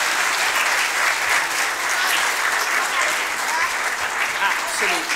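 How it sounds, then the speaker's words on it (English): A church congregation in Swansea applauds steadily as performers come down, a dense, even wash of clapping across the hall with a few voices murmuring underneath. "Should we give them another round of applause as you come down?"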